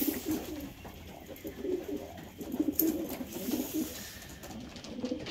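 Soft, low cooing from a hen pigeon repeats in gentle rolling phrases, close and fairly quiet, with faint background noise.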